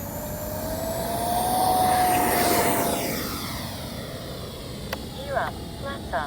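Model L-39 jet from FlyFans with a 6S battery, taking off with a rising turbine-like whine that swells loud and passes over about two seconds, then fades, with a few short clicks and a brief voice near the end.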